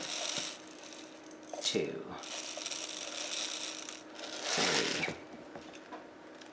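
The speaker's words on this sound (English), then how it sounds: "I'm going to use peppercorns because I'm grinding this all fresh." Black peppercorns ground fresh in a hand grinder, rough ratcheting crunches in several bursts of turning, with a voice counting briefly between them.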